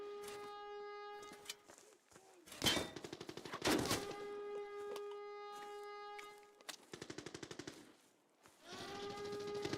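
Rapid bursts of video game gunfire from a firefight in a shooting range, loud and close, with dense volleys stopping and starting across the clip alongside ringing tonal game effects.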